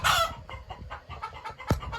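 A Marans rooster among hens in a farm flock, a loud opening crow-like call followed by scattered clucks and short calls, with one sharp close squawk near the end.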